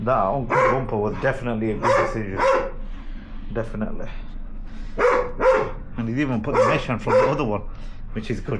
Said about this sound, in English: I do apologise for the dog in the background